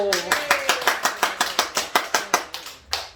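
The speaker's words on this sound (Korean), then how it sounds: "우리 박수 한번." A church congregation at Sunday worship claps in a steady, rhythmic beat of about a dozen sharp claps, close and fairly loud, with a brief voice at the start.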